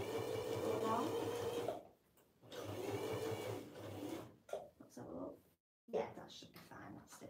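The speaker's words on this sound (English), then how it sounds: "So I like to back stitch at the start of mine." A domestic sewing machine back stitching fabric binding runs in steady whirring bursts, pausing between runs, with voices talking quietly nearby.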